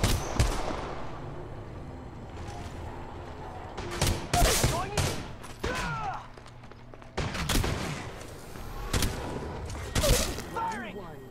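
G7 rifle gunfire in the mobile video game Apex Legends Mobile, with sharp, loud shots in spaced bursts and some rapid volleys, under a player talking throughout.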